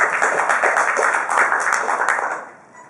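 Warm audience applause at a Toastmasters meeting, a few seconds of brisk, fairly close clapping from a small group that tapers off at the end.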